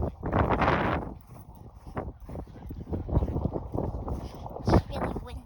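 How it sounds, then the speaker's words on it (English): Strong wind gusts buffet the microphone outdoors at Fort Sumter in Virginia, roaring loudly at first and then rumbling in uneven bursts while a person speaks. "It's really windy in Virginia."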